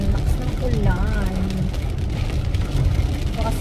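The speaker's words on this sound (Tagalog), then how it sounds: "Ang lakas ng ulan." Heavy rain drums steadily on a car roof while riding home after supper, a dense constant wash with the car's low rumble underneath.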